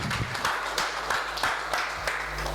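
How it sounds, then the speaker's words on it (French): A church congregation claps in a steady, rhythmic beat, a broad patter of many hands heard indoors at moderate loudness. "Let's clap for the word of God."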